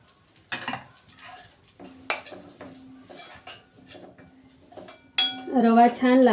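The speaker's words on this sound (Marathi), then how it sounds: "आपला रवा छान भाजण्यात होत आहे" Semolina roasting in a pan for sheera, stirred with a spoon in light scraping clinks and taps through the clip, ending in a louder burst of sizzling clatter.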